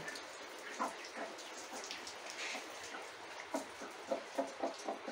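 Steady rain patters softly on a village farmyard where chickens shelter, with scattered louder drops striking a surface near the end; quiet and continuous, with no voices.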